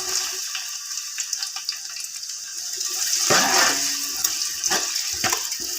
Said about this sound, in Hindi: जी, हमने ऑयल इसमें डाल दी है, ऑयल गर्म हो गया। अब हम इसमें प्याज ऐड करेंगे।